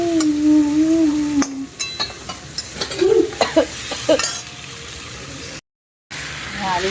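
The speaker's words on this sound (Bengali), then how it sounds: "মাছের তেলটা, আদা রসুন বাটা, পেঁয়াজ বাটা, কাঁচা লঙ্কা, টমেটো, জিরে গুঁড়ো, ধনের গুঁড়ো আর নুন মিষ্টি দিয়ে একটু এই মাছের তেলটাকে কষিয়ে নিচ্ছি আগে" Fish oil cooks in a pan with ginger-garlic paste, onion paste, green chilli, tomato, cumin and coriander powder, giving a soft sizzle under clinking and scraping stirs, with brief pauses and a short silent gap.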